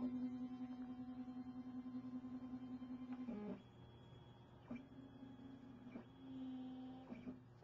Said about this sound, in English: power the machine on to initialize